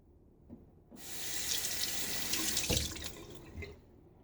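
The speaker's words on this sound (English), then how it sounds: "we'll do a full rinse this time" Tap water runs steadily into a sink for a full rinse during a wet shave with a Timeless SS .68 OC safety razor, the flow swelling after a near-silent first second and continuing close and unbroken without any talking.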